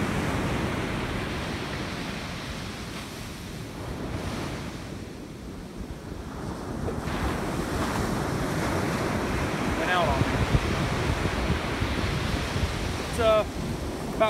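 Rough ocean surf crashes and rumbles continuously at dawn while wind buffets the microphone, a steady loud roar with surging swells and no voices.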